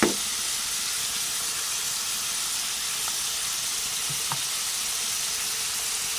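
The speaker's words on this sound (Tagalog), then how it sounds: "Iluluto ko yung beef steak." Beef tapa, thin slices of steak, frying in a pan, giving a steady close sizzle and hiss that stays even throughout, with a couple of faint pops and no one talking.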